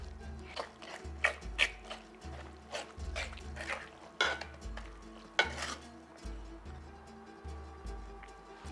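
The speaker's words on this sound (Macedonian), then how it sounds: "И така малку пасирајте си со вилувчето." Fork mashing roasted Veles pindzur by hand in a bowl, giving soft repeated stirring and scraping strokes with occasional utensil clinks, close and moderately quiet, with no talking.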